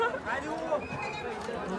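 A crowd of devotees at the Ekvira temple Chaitra palkhi festival, a steady hubbub of overlapping chatter and voices filling the air close around, with no single voice standing out.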